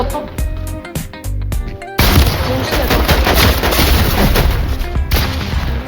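Rapid gunfire in a video game, dense bursts of shots and booms that start sparse and broken, then become continuous and loud after a couple of seconds.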